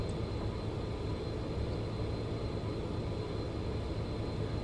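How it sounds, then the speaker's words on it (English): Engine number two of a BAe 146 jet spools up during startup in a flight simulator, a steady droning whine and rumble holding at constant level throughout. "Number 2 is spooling up."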